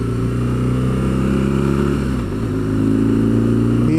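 A vehicle engine runs with a deep, throaty tone, holding a steady close-up drone that dips briefly in the middle and then builds slightly.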